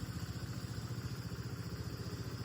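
A kick-started motorcycle idles close by in a steady, low, rapid putter with a faint mechanical clatter throughout, with no one talking over it.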